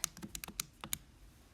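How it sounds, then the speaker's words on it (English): Keys on a handheld calculator are pressed while a law of sines problem is worked out: about eight quick, light taps in an uneven sequence within a second and a half, close and faint, with no speech. "So type that in your calculator"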